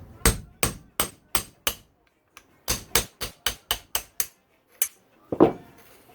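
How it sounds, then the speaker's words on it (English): Sharp metallic strikes while loosening the top spanner on a Yamaha YZ motocross fork with a tool, about a dozen close, ringing hits in an uneven rhythm with short pauses. "Loosen up the top spanner."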